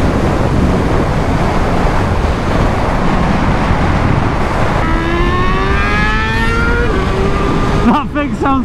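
A 2020 superbike on an open road, its engine note rising in stepped, climbing pitches through the gears from midway on, under heavy, steady wind roar that fills the whole passage.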